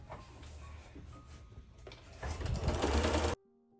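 A sewing machine stitches quilt strips with a quarter-inch seam, its fast even whirring hum running alone and growing louder toward the end before cutting off abruptly into near silence.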